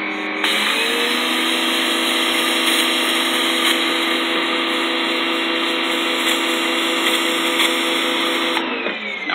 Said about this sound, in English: This power washer is very annoying, so hopefully, you have a better one.